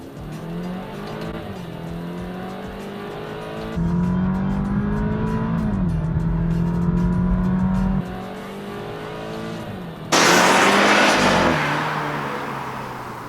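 A BMW 428i Gran Coupe accelerates hard down a straightaway with paddle shifts, its engine note climbing steadily and dropping at each upshift, heard from inside the cabin, with a loud burst of road and wind roar near the end.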